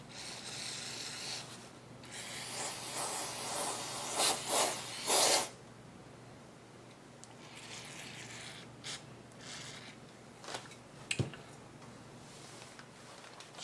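Gun scrubber aerosol cleaner sprayed onto a Taurus Judge revolver, a hissing spray burst followed by quieter rubbing and a few faint clicks, close and without talk.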